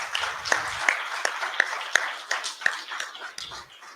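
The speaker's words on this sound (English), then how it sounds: "Can we get another round of applause?" An audience at a community event about housing gives a scattered round of applause, a modest crowd clapping unevenly with a few sharper claps standing out.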